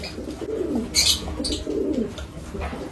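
Pigeons coo in low, rolling phrases while feeding together at a lovebird colony, two clear coo bursts near and moderately loud, with brief chirps and rustling between them.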